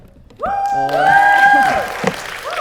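A small audience at a student organisation kickoff event cheers and whoops, with high voiced shouts over brief clapping, loud and close for a couple of seconds.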